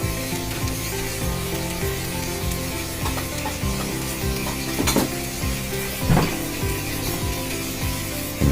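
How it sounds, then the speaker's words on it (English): Beef pieces sizzle loudly in a hot pan as they are sealed for a St. Lucian beef ragu, a steady close frying hiss broken by scraping and stirring against the pan, with no talking. "And we then seal the beef to lock in that natural flavor."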